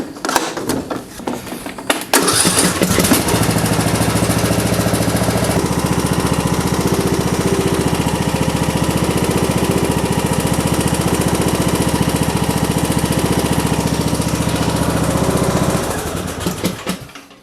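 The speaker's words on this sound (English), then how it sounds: "Let's go ahead and start it up" John Deere D110 lawn tractor engine cranking briefly, then catching and running at a loud, steady, rattling idle for about fourteen seconds before winding down near the end.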